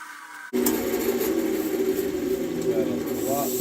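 A sharpened tool on a wood lathe cuts into a canarywood vase: a steady, close scraping whir that starts abruptly after a brief quieter moment and continues evenly to the end.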